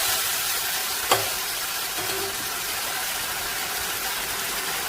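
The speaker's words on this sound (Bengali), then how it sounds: "মাছগুলো কুন্তি দিয়ে একটু নেড়ে চেড়ে ঝোলের সঙ্গে মিলিয়ে নেব" Fried koi fish being stirred into spicy gravy in a pan, heard as a steady broadband sizzle with one sharp utensil knock and faint scraping, no voices.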